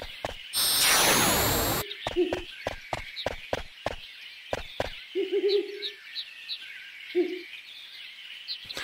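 Owl in the woods of Final Fantasy IX near the Black Mage Village hooting in two short, low bursts, moderately loud among regular footstep taps and soft ambient music, after a loud whooshing transition effect.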